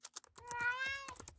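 A cat in a video game gives one clear, drawn-out meow lasting about half a second, set among faint clicks and soft background noises.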